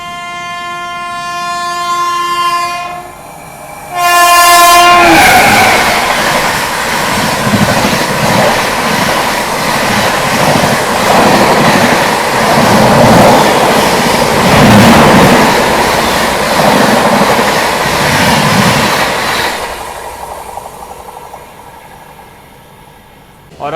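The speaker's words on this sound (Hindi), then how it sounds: "और ये आ गई दुरंतो" A Duronto Express rushes past on the main line, opening with a long two-tone horn blast and then a loud, sustained roar and rattle of wagons lasting most of the clip before fading quickly.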